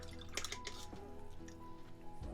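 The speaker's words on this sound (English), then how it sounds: "Then we're going to wash the brush," A paintbrush swishes and taps in a water pot while being rinsed during miniature painting, making light splashy drips and clinks close up, with no talking.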